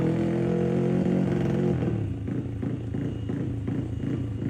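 A motorcycle engine idles loudly with a steady low rumble, then revs in several short bursts, close and without talk.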